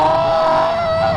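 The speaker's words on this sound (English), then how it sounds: "I did a hooligan, I just dropped a gear." A motorcycle engine drops a gear in traffic while tailgated. Its steady, close, loud droning tone dips slightly in pitch near the end, with no other sounds over it.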